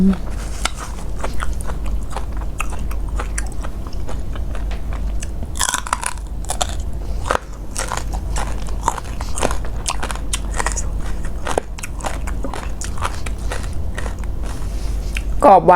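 Loud, close crunchy chewing of spicy Thai blue crab salad with fermented fish and crisp vegetable stems, repeated crisp bites and crackles in an irregular rhythm, with a voice talking now and then.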